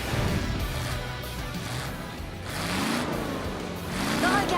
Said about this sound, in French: Regardez ces moteurs prêts à bondir sur la ligne de départ.